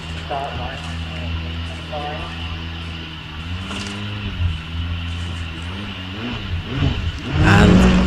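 A Gould hillclimb race car with a 4-litre Judd engine is held at a steady rev on the start line at Wiscombe Park in the British Hillclimb Championship, warming its rear tyres. A continuous loud engine drone swells near the end, with a commentator talking over it.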